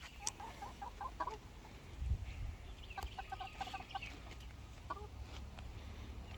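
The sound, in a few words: chickens clucking in a backyard coop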